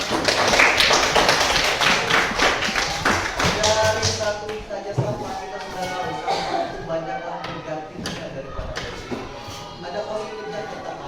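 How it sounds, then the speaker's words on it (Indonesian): Students clap together in a classroom, a brisk burst of hand claps in the first few seconds that fades, followed by talking and shuffling. "tepuk tangan untuk kita semua"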